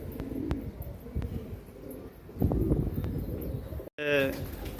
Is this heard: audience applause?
no